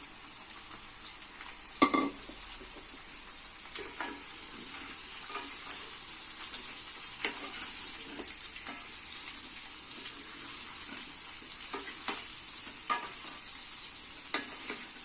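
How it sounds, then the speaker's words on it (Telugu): Bottle gourd pieces sizzle and fry in a pan with onion, green chilli and curry leaves, stirred with repeated scraping strokes over a steady close sizzle, with no talking. "మనం కట్ చేసి పెట్టుకున్న సొరకాయ ముక్కల్ని ఇందులో వేసి"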